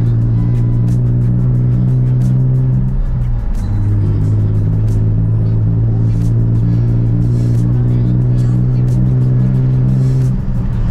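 A Nissan 350Z HR engine stutters as if hitting a fuel cut while accelerating after a cold start. A loud, continuous low drone briefly dips and wavers partway through, with a faint, rapid, irregular ticking running above it.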